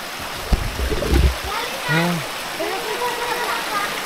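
Water flowing and trickling from a giant tree, a continuous hiss of running water under several people talking close by.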